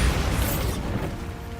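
Bombarda spell in Hogwarts Legacy detonates with a deep booming blast, loud and close, its rumble fading into a short rolling tail.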